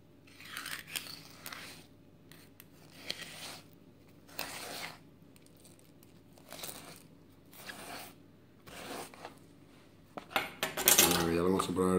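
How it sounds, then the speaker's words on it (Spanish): A knife slides along the backbone of a palometa fish, separating the fillet in a series of short scraping strokes with quiet pauses between, ending in a louder burst of clattering handling noise. "pegando el cuchillo a la espina nos vamos separando la carne"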